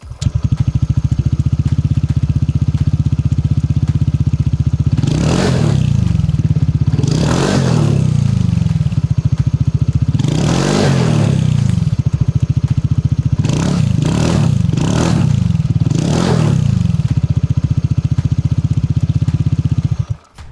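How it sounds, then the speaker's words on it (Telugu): A TVS Ntorq 150 scooter idles with a steady, loud exhaust hum, then is blipped through several quick revs, two spaced apart early and a tight cluster of three later, each rising and falling back to idle. "సో ఈ స్కూటర్లో ఎగ్జాస్ట్ నోట్ ఎలా ఉందో ఒకసారి మనం చూద్దాం."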